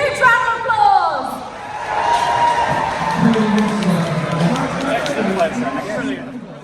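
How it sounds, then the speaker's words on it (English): A crowd at the Extreme Robots Maidstone 2023 robot combat event cheers, whoops and applauds loudly, with children shouting and a presenter's amplified voice talking over the noise. "Let's give them a huge round of applause"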